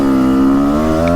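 A 2023 Husqvarna TX300 two-stroke dirt bike revs loud and close, its engine note rising smoothly under the throttle in one continuous, buzzy pull with no one talking.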